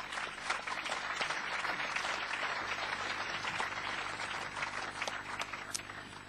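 Applause from a festival audience at a literature festival discussion, a dense, steady wash of many hands clapping that carries on without pause for several seconds.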